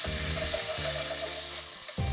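Diced tomatoes hitting hot oil in an Indian pan with onions, ginger and garlic, a loud steady sizzle and splutter that runs throughout, with a low hum underneath.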